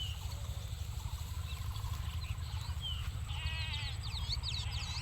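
Sheep bleat here and there, fairly distant, over a constant low rumble with faint insect chirping in the background.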